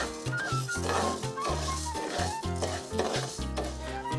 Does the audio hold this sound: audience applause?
no